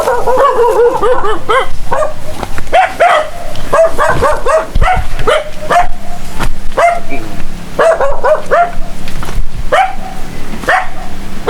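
A dog barks repeatedly and loudly up close, sharp barks mixed with yips and whimpering whines in an uneven rhythm.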